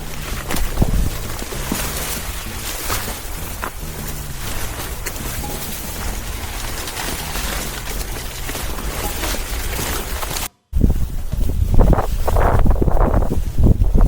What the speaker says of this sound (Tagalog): Ay, mahangin na naman.